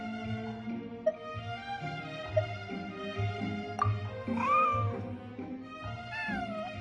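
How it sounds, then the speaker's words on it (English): A white, fluffy cat meows repeatedly in Genshin Impact, rising and falling calls sounding over soft, sustained game music. "Here, kitty, kitty!"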